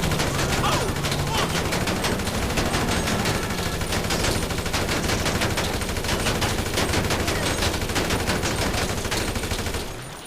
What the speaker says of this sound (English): This is an AK-47, standard rifle of most militias.